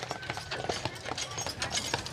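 Horse hooves clip-clop on a road in a park on Mackinac Island, Michigan, a quick irregular run of close, fairly loud hoofbeats with light voices nearby.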